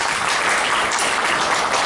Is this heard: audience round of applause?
yes